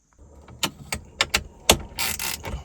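Socket wrench ratcheting as bolts are backed out of a Lexus dashboard during radio removal: a series of sharp, close mechanical clicks in short bursts, with a longer buzzing ratchet run near the end, no talk.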